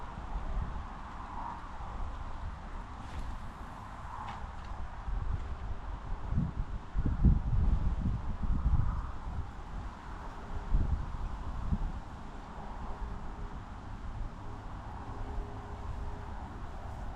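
Wind blows steadily outdoors by a lake during autumn pike fishing, a constant low rushing with faint rustling and occasional soft gusts, fairly quiet and with no voices.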